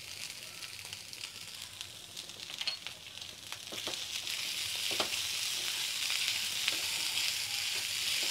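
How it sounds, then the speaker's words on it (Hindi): A chilli and salt mixture roasting in a pan gives off a steady, close sizzle and crackle that grows slightly fuller partway through, with a few soft scraping stirs and no voices. "अब इसको थोड़ा सा भुनने देती हूँ, 5-6 मिनट मैं इसको और भुनूंगी अच्छे से।"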